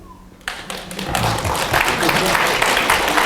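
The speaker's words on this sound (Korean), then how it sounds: "박수를 쳐야죠." Applause swells up suddenly from a gathered audience at a church Bible conference and holds as a thick, steady wash of clapping filling the hall.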